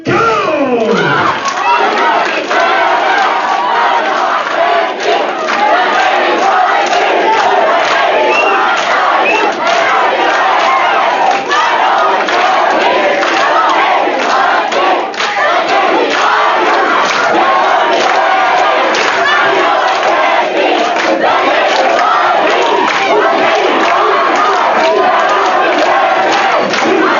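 Two teams at an Army versus Navy church fun night compete in a cheering contest, shouting and cheering at full volume; a loud, continuous crowd roar with overlapping yells and occasional thumps lasts throughout.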